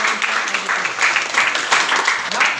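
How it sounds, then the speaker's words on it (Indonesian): An audience claps steadily after a presentation on social-emotional learning, a dense, close burst of applause that holds through the whole moment. "kita berikan aplaus untuk"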